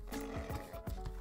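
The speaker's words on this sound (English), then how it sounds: "Come here, horse." A horse in the Minecraft video game whinnies and clops its hooves, a short, quiet burst of snorting and rhythmic thuds.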